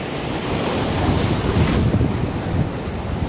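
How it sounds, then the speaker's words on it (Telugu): Sea water surges fast and roaring into a beach cave, a loud continuous wash of surf with heavy wind buffeting the microphone throughout, no voices. "చూడండి వాటర్ ఎలా వస్తుంది, ఫ్లో చూడండి ఎంత ఫాస్ట్గా వస్తుందో"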